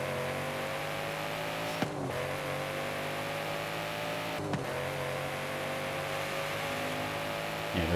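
Car engine in Forza Horizon 5 droning steadily at a fairly constant pitch, with two brief gear-shift dips interrupting the tone, no voices.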